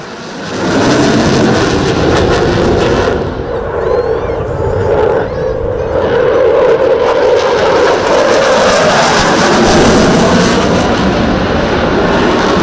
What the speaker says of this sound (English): the 74th Tactical Wing also supported the Malta International Airshow with their Typhoon solo display